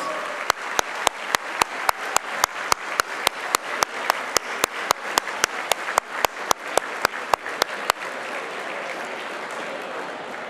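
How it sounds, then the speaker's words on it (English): Audience applause at a ceremony honouring a veteran member, with steady clapping from a crowd that carries on for about eight seconds, punctuated by sharp near claps, then fades out. "Let's give Cullen a very, very, very, very, very big round of applause."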